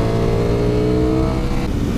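Engine of a 2021 Ducati Streetfighter or 2021 Aprilia Tuono V4 motorcycle on throttle, a steady, loud, close multi-harmonic drone that holds for two seconds with a slight shift in pitch near the end.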